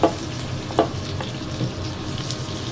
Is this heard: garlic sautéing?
yes